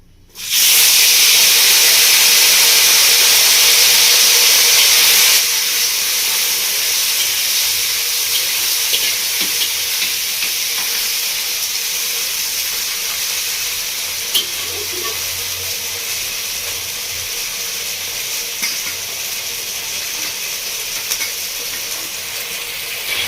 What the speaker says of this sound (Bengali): এবার আমি তেলের মধ্যে দিয়ে দিচ্ছি ভেন্ডিটা